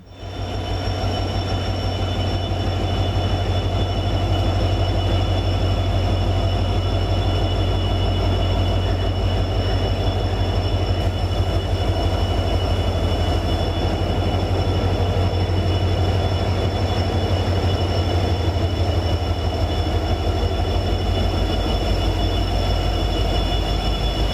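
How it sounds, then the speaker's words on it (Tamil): A train on a trial run on the Karaikal–Peralam railway line rumbles steadily along the track, a loud continuous roar with low mechanical drone and faint high-pitched whine throughout, no voices. "காரைக்கால் பேரளம் ரயில்வே திட்டத்தில் ரயில் சோதனை ஓட்டம் நடைபெற்றதால் பொதுமக்கள் மகிழ்ச்சி அடைந்துள்ளனர்"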